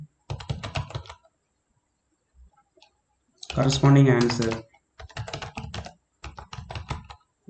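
Rapid keystrokes on a computer keyboard while typing in Microsoft Word, clicking in short bursts between stretches of speech.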